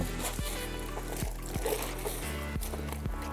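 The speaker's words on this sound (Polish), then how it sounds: "wypłukujemy ten brud w tym wiadrze z czystą wodą" A wash mitt is rinsed in a bucket of clean water during a car wash, giving soft trickling and sloshing water with several low gurgling splashes spread across the moment, close and moderately loud.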